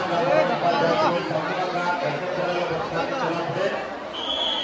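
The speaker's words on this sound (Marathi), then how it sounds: "लय गर्दी आज लय बेकार." A dense crowd chatters continuously at an Akkalkot temple darshan on a Thursday, many overlapping voices forming a close, loud hubbub, with a brief high tone near the end.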